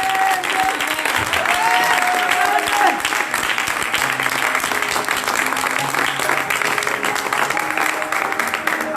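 A church congregation bursts into loud, sustained applause and cheering in praise of Jesus, a dense steady roar of clapping with voices calling out throughout.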